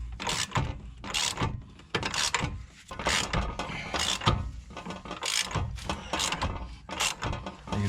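A bolt is turned on a bushing press tool during a Mercedes W124 suspension refresh, producing close, repeated ratcheting clicks in steady bursts roughly every second, with metallic creaks between strokes.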